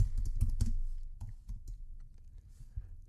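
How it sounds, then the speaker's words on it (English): Keys clatter on a computer keyboard as a search is typed into Google, a quick burst of close clicks that thins into a few scattered taps. "So I'm just going to type this in Google."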